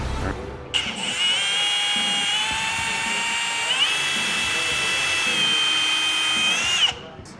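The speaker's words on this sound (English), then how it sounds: "So this is a M12 Surge, Mike." A Milwaukee M12 Surge cordless impact driver whines at high speed in a garage, a loud, sustained electric motor drone that starts abruptly, shifts pitch once midway, then cuts off sharply near the end.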